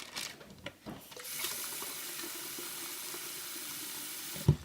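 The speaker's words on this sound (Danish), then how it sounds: "Vi fylder lige noget mere vand i." Water runs from a tap to fill a container, a steady hiss of flowing water lasting several seconds after a few brief knocks, ending with a sharp clunk.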